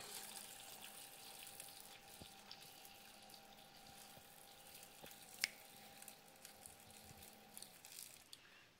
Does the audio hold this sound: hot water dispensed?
yes